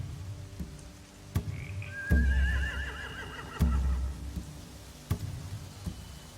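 A horse whinnies once in a long, wavering call in The Walking Dead video game. Sharp clattering knocks and thuds come at regular intervals, and a low background hum runs underneath.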